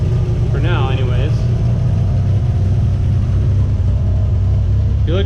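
A Nissan 300ZX Z31 engine, cold just after startup and running on old injectors, idles as a steady low rumble close by while people talk over it.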